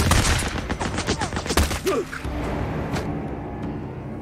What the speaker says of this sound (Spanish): Y más si me está disparando a mí.